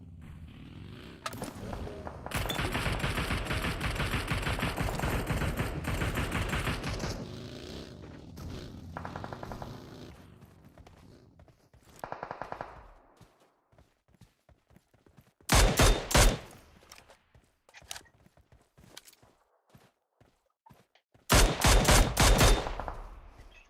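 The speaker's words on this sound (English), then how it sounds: "Some shots coming down, and what a shutdown from DRG Void with the Mini 14 coming through." Rifle gunfire in a competitive battle royale match, Mini 14 shots coming down in quick volleys: a long sustained burst of fire early on, then fainter scattered shots and two short loud bursts later.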